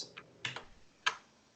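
Several separate keystrokes tap on a computer keyboard, close and crisp, with short pauses between them and no talking.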